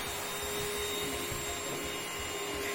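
An electric vacuum cleaner sweeping up toys runs with a steady, loud, close droning whine and no pauses, alone without voices.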